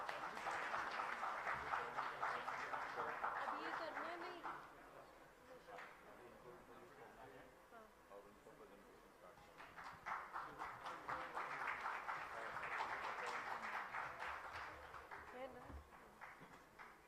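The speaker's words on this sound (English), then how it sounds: "Can we have a big round of applause?" Faint applause from an audience at the DCO(I)WA 2nd Annual Congress comes in two bursts separated by a stretch of quieter sound with some talk, the clapping distant and thin.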